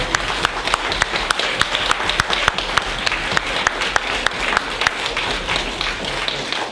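An audience applauds steadily, dense clapping from a moderate-sized crowd that holds at an even level throughout.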